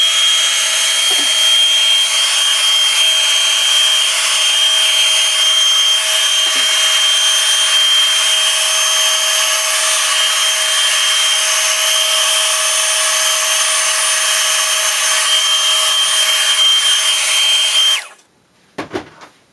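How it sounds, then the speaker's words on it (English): A handheld blow dryer runs steadily for about eighteen seconds, drying wet watercolour paint on a poinsettia Christmas card, with a loud, even whine that holds constant before cutting off abruptly, followed by a couple of faint handling knocks. "Let me dry it off again real quick with my handy blow dryer."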